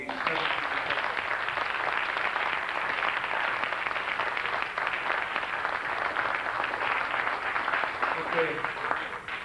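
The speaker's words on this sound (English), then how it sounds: "Have a nice round of applause for these." An audience claps through a round of applause at a 1991 oratorical contest, steady, moderately dense clapping filling the room for several seconds, with a few voices faintly mixed in.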